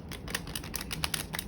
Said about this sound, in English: let's go for round 2 of riffle shuffling